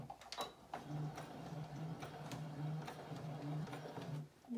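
A sewing machine back stitching a fabric bunny bag, its needle running in a steady, fast mechanical rhythm with quiet ticking, fairly faint and unbroken, with no talking.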